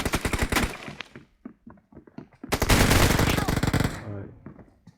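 Gunfire in PUBG Mobile comes as loud bursts of rapid automatic shots, with a short burst at the start, scattered quieter sounds, and a longer heavy volley, with brief game noise between.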